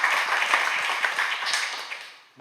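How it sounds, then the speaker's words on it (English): A round of applause from an audience at a Stanford Igniters meetup: a dense wash of clapping at steady strength for about two seconds, then fading away quickly at the end. "I'd like to give the organizers for Stanford Igniters a big round of applause."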